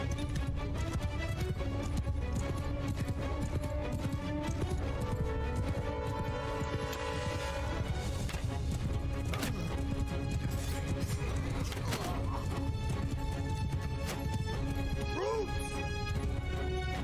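Horses gallop with steady clip-clop hooves during a mounted battle in Mount & Blade II: Bannerlord, heard under game music and voices at moderate level.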